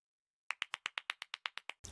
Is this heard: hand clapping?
yes